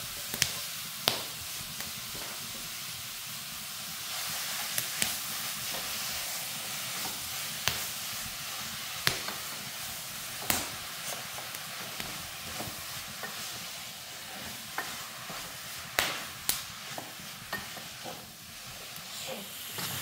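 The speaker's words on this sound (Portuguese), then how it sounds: "Agora eu vou colocar a carne e vou refogar ela até ficar bem soltinha." Ground meat sautéing in a pan for eggplant lasagna, a steady close sizzle broken by repeated sharp scrapes and taps of a spoon stirring through it, with no talking.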